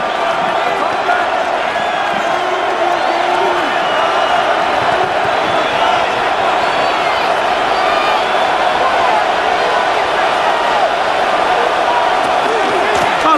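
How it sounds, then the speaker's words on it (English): A packed football stadium crowd during the Patriots vs Broncos AFC Championship Game roars continuously and loudly, a dense, steady wall of noise without pause. "And they're going to hear it from this crowd."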